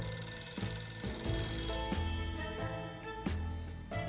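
A telephone bell rings in a cellar, a harsh metallic jangle in repeated bursts with brief gaps, fairly loud and alone without any talking.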